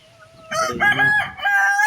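Native country chickens cluck softly at first, and then a rooster lets out a loud, close crow in two drawn-out bursts.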